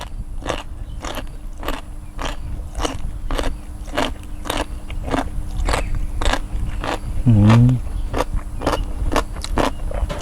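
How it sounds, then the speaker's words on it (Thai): Loud, close crunching comes in a steady rhythm as crispy food is bitten and chewed, one crisp crackle after another, with a brief low vocal hum partway through. "ทำหน้าที่กรอบ กรอบอย่างเดียว"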